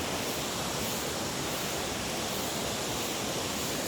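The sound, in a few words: waterfall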